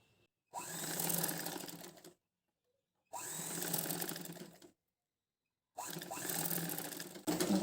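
A sewing machine stitches blouse fabric pieces together in three bursts of fast whirring, each lasting about one to two seconds, separated by short silences, close and clear.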